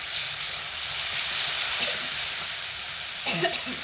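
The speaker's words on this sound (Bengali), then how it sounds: "মিডিয়াম আঁচে রেখে মশলাটা খুব ভালো করে কষিয়ে নেব" A spice paste of turmeric and ground dried red chillies fries on medium heat in a pan for ghetkol fry, a constant close hiss and sizzle with a few stirring scrapes near the end and no talk.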